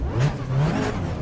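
In the Assetto Corsa racing game, a Renault Clio RS Cup at Oulton Park revs briefly, a close, buzzy, rising engine note that lasts only a moment.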